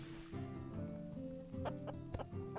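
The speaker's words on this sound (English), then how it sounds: "Look at the chickens! Going right through the critter door!" Chickens cluck in the farm-life game Clanfolk, a cluster of short clucks and calls over a steady musical background, moderately loud with a few sharper bursts toward the end.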